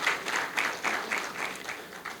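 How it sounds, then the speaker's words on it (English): An audience claps at a charity foundation launch, a short burst of steady applause with a regular pulsing rhythm, fairly faint and distant. "Please give her a round of applause."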